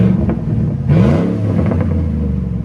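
A car with an aftermarket muffler revs up, its exhaust rumbling loud and close, with one sharp rising rev surge in the middle and a steady throaty idle around it.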